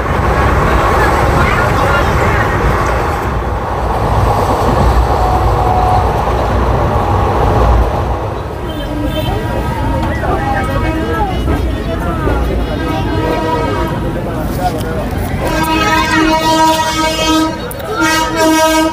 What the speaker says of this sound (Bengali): আমাদের ট্রেন ঢুকলো বোলপুর শান্তিনিকেতনে।